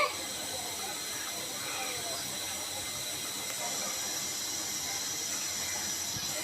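Flattened rice and potato snack fries in moderately hot oil over medium heat, giving a steady soft hiss that stays level and fairly quiet from start to finish.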